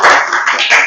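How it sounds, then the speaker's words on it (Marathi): Clapping from a group of classroom students for a classmate who answered correctly, a short burst of dense, close claps. "टाळ्या वाजवा त्याच्यासाठी."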